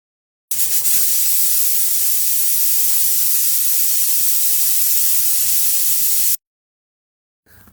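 A pressure cooker boiling beef releases a loud, steady hiss of steam for about six seconds, then cuts off abruptly into silence.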